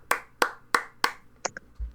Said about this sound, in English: Everybody give Clever Pigeon a nice big round of applause, everybody.